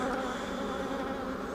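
Honeybees swarm inside a crowded hive box with two deep bodies, a loud, close, unbroken droning buzz.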